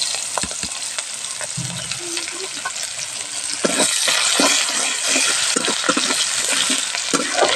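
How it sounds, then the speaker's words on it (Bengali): Onions fry in hot oil in a pan after fish were fried, with a constant crackling sizzle that grows louder midway, punctuated by stirring scrapes and small clicks, close and continuous with no talking. "এবার পেঁয়াজ দিয়ে দেব।"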